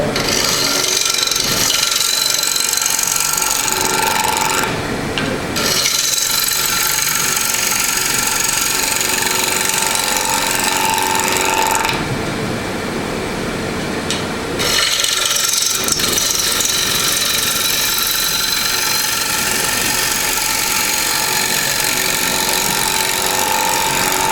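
A power tool trims the warped front edge of a carved square wooden platter, giving a loud, steady rasping cut that runs with two brief pauses, close up and with no talk.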